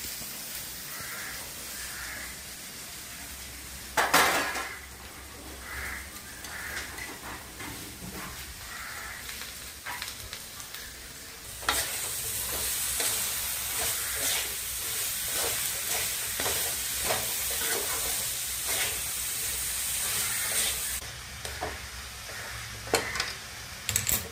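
Ivy gourd (kovakka) cooks slowly in a pan, giving a soft continuous sizzle with occasional stirring scrapes, while crows caw nearby now and then.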